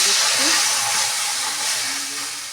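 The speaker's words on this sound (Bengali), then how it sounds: "জল দিয়ে দিচ্ছি" Water poured into a pan of cooked-down masala for a silver carp fish curry, giving a loud, bright sizzling hiss that slowly fades. A faint voice is heard briefly.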